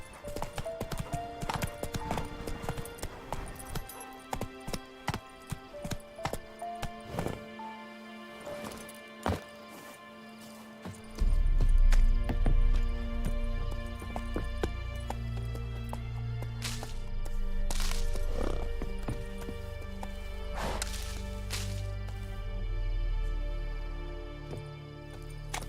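Roach, the horse in The Witcher Wild Hunt, gallops with quick, clear hoof clip-clops, first on a hard surface, then over a heavier rumbling ground layer, with an occasional whinny in the game.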